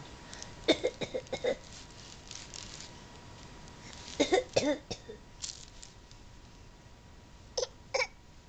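A young child coughs in short bursts: a cluster of rapid coughs early, another raspy group midway, then two final coughs, close and fairly quiet.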